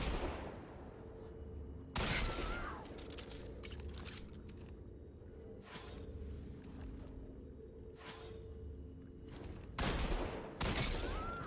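Hand cannon fire in Destiny 2, a Trials of Osiris match: several sharp, loud shots spaced a few seconds apart over a steady low rumble of game ambience.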